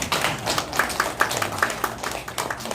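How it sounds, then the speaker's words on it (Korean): A church congregation claps for a deaconess during a Sunday service, a burst of many hands applauding in a steady, crackling patter that carries on throughout without pause. "우리 권사님한테 그래도 박수 한번 해줘야 되잖아"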